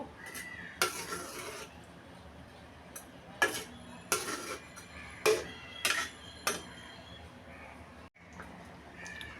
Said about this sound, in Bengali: এবার নেড়ে সেড়ে রান্না করে নিব